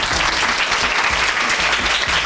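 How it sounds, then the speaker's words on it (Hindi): Steady, dense audience applause from a crowd, loud and continuous throughout with no pauses. "जिसके लिए सबने बजाई तालियां"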